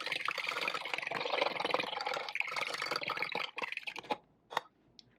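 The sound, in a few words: water being poured into a measuring cup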